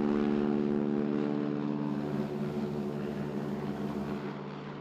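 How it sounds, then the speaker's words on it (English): A small propeller floatplane run by Lake Country Air Service throttles up for takeoff, a steady, droning engine and prop hum, loud and close, holding strong then easing slightly. "our pilot works through his pre-flight checklist and prepares to throttle up"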